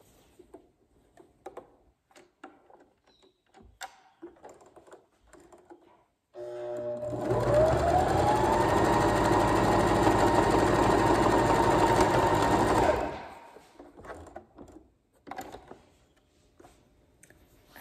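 A sewing machine stitching a Tahitian hip belt runs steadily for about seven seconds in a fast, even whir. Quiet tapping and handling noises come before and after it, and no one speaks.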